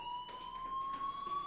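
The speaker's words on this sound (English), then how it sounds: "Hey, do you hear that fire alarm?" A fire alarm sounds in the video game Life Is Strange as a steady, faint electronic tone with a slightly rising pitch, ringing continuously throughout and heard alone.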